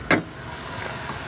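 A 2009 Chevy Malibu LS with a 2.4 Ecotec engine idles in an auto wrecking yard. It makes a steady, low, fairly faint hum, with one brief sharp click near the start.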